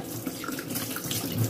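Tap water runs steadily into a sink while an empty tin of mackerel is rinsed out in a kitchen, a continuous splashing flow with small shifts in pitch and no talking.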